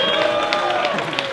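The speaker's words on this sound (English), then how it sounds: "If you guys can please give a round of applause." A crowd at a UFC 227 open workout gives a short, moderately loud round of applause, a dense patter of clapping with some scattered cheering underneath, heard from within the gathering.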